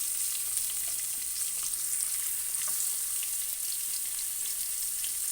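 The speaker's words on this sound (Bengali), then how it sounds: "পেঁয়াজ কুচিগুলো পুরো লাল লাল হয়ে যাবে, এরকমভাবে ভেজে নেব।" Chopped onions and whole nigella seeds fry in hot oil, giving a steady, close sizzle that stays even throughout with faint crackles and no voices.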